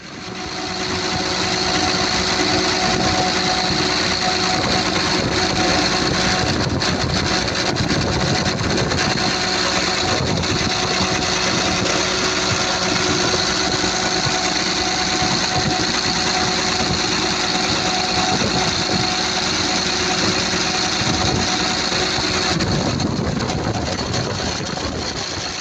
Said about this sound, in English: the engine right now is up and running.